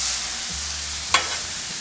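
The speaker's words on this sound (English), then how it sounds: "Let's get this shrimp on there. Oh, sizzling, yes it is." Shrimp sizzle on a hot Blackstone flat-top griddle with a steady, close frying hiss, interrupted by a brief sharp burst of louder crackle partway through.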